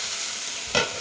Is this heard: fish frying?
yes